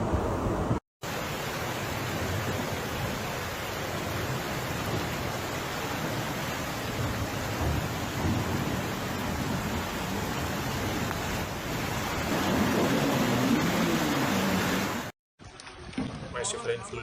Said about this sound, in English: Massive rain flooding the city of Montpellier, France.